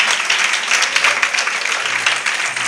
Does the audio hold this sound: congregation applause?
yes